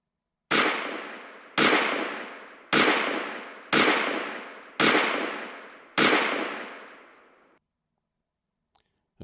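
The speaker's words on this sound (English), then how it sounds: "we're going to again be shooting the Umarex Beretta, as I mentioned, the M9A3, and we're going to be using single action" Six sharp, evenly spaced shots from an Umarex Beretta M9A3 airgun, fired single and double action without gas blowback, each a loud crack with a short decaying tail, followed by quiet.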